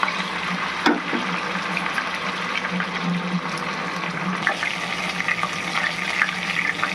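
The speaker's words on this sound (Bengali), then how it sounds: "এখানে মাছ কিন্তু ডিপ ফ্রাই করে ভাজতে হবে।" Katla fish pieces deep fry in hot oil, giving a steady, close bubbling sizzle that holds even throughout, with a few faint pops.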